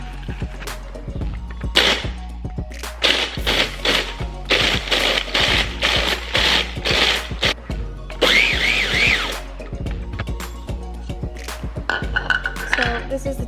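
Cookie crumbs for a key lime cheesecake crust pulsed in a food processor, a run of short, loud whirring bursts with clinks and rattles from the bowl, then a longer, steadier spin near the end.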